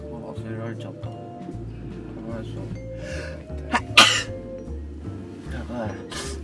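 One sharp, loud sneeze bursts out mid-conversation on a mountain hike from Hiwada-san toward Ōtakatori-yama, close by. Chatting voices surround it before and after.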